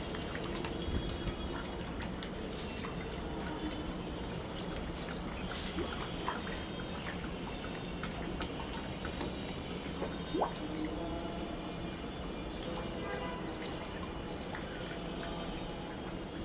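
Large pangas fish feed on scattered pellets in a pond, making a continuous patter of small splashes, drips and slurps at the water's surface, fairly close and steady throughout with no talking.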